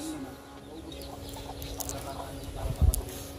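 Chickens cluck in brief scattered bursts near a rural hut, faint clucks under ambient noise with a louder cluster toward the end, and voices murmur in the background.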